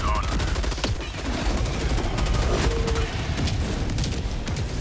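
Dense, continuous barrage of orbital strike explosions in Helldivers 2, rumbling booms and crackling blasts rolling over each other without pause, loud and close throughout.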